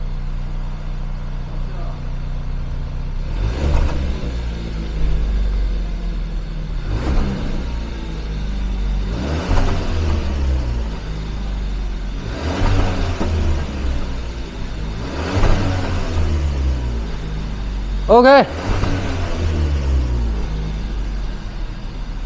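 A Hyundai car's engine is revved with the throttle in a steady rhythm of about six rising surges a few seconds apart, each swelling and falling back to idle, close by, with a brief voice near the end.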